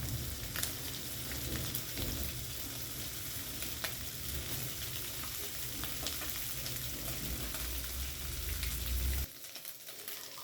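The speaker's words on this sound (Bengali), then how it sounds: "মাছটাকে আমি ভাজতে ভাজতে এইভাবে ম্যাশ করে নিয়েছি।" Fish frying with salt and chopped garlic in a pan, a dense continuous sizzle with scattered scraping and mashing strokes, fairly quiet and close, cutting off sharply near the end.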